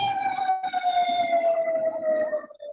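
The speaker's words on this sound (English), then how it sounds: "That was a fire truck." A fire truck siren sounds loud and close in a steady wailing tone, passing by on a highway and slowly falling in pitch as it moves away.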